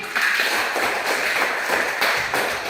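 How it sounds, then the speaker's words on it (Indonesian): An audience claps steadily for April, a dense, even patter of many hands held at an unchanging moderate level for nearly three seconds, with no voices over it. "tepuk tangan untuk April"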